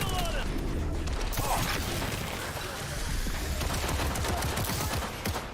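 Fully automatic gunfire in a video game, a rapid sustained burst of shots rattling on for several seconds amid crashing game effects at moderate loudness.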